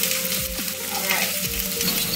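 A vegan mushroom steak seasoned with garlic, paprika and cumin sizzles steadily in a hot pan, a continuous close frying hiss with faint scraping stirs.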